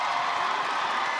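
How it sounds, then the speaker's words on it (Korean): Basketball fans of the Changwon LG Sakers applauding in an arena during a KBL game against the Samsung Thunders, a dense, even roar of clapping and crowd noise that fills the short moment without letting up. "LG 팬들이 박수를 보내주고 있습니다."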